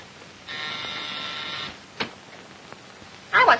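An old-fashioned telephone rings with a sustained electric bell trill, followed by a couple of sharp clicks and a short second burst of ringing, heard indoors at moderate loudness with no one talking over it.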